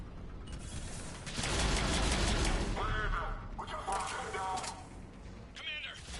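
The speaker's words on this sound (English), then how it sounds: "Commander, we're getting a lot of mortar fire" Mortar fire and gunfire crackle through a Mass Effect 3 battle, with bursts of rattling shots and mechanical clanks over a low rumble, and a voice talks over part of it.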